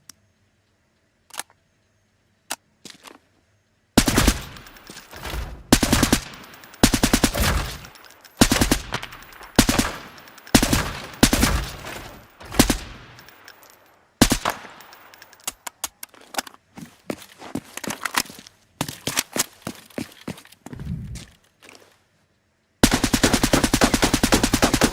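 Gunfire in the video game Arena Breakout Infinite comes in sharp repeated bursts and single shots, loud and close, separated by brief silences, ending in a sustained dense volley.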